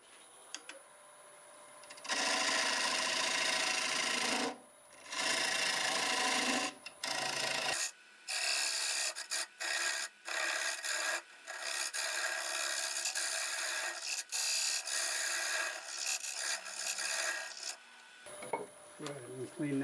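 Oak spins on a wood lathe while a dovetail tool cuts into the hardwood, giving loud, close scraping and rasping in long bursts broken by short pauses as the tool is lifted and reapplied.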